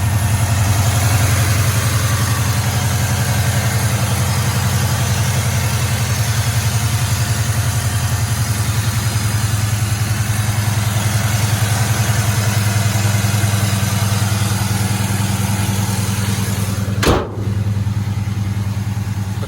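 The engine of a 1972 Chevrolet Chevelle idles smoothly and steadily, a loud, even rumble close by with no talking.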